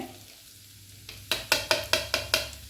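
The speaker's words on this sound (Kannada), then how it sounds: "ಈಗ ನಾನು ಚಾಪ್ ಮಾಡಿದ ಇದು ಉಂಟಲ್ಲ ಕಾಲಿಫ್ಲವರ್, ಅದನ್ನು ಹಾಕ್ತೇನೆ." Chopped cauliflower tossed in a pan over a high gas flame, with garlic in the oil: a quiet sizzle, then six sharp, evenly spaced scraping stirs that flare loud and fade, no voices.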